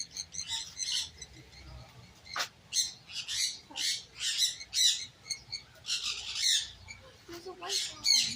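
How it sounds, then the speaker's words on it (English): Many birds squawk and chirp at a zoo enclosure, a busy, overlapping chorus of sharp calls at moderate distance, with no talk over them. "Lots of birds."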